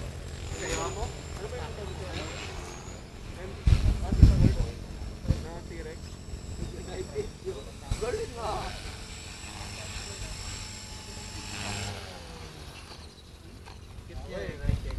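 An Align 450 V2 model helicopter's motor whines and buzzes steadily while people talk nearby, with a few louder thumps partway through.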